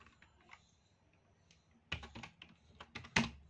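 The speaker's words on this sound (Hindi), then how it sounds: "अब इसको मैं यहाँ से मैं स्टार्ट कर रहा हूँ कुछ लिखने के लिए।" Typing on a computer keyboard during a computer class, a quiet run of close, irregular key taps that grows into louder clustered clacks toward the end, with no speech.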